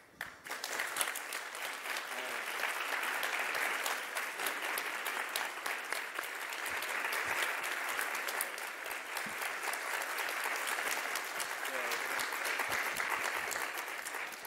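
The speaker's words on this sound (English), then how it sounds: "Let's give Ms. Parsons one more round of applause." A crowd gives a standing-ovation round of applause, sustained dense clapping that swells early, dips briefly midway, then builds again and carries on steadily for many seconds without speech.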